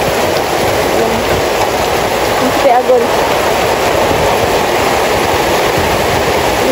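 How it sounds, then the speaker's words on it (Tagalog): Heavy typhoon rain in Daet, Philippines, roars steadily and loudly without letup, a dense wash of noise, with a brief spoken phrase partway through. "May bagyo po kasi dito sa Daet, sobrang ulan"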